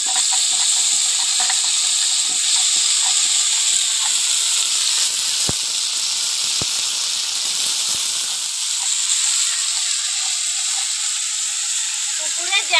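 Vegetables sizzle in a pan over a village clay stove, a steady bright hiss of frying that runs the whole time with a few soft clicks and scrapes of stirring.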